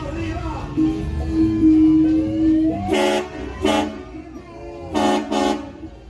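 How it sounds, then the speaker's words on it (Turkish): Two pairs of short car horn honks ring out amid street noise and a murmur of voices at a Halloween festival parade in New York, loud and fairly close. "Kornaya bak kornaya."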